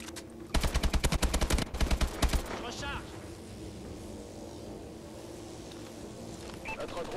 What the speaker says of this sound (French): Regardez, il me tire dessus, il peut rien faire.